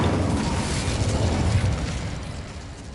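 A booming burst of the Incendio fire spell in Hogwarts Legacy, a loud dense roar that swells and then slowly fades over a few seconds.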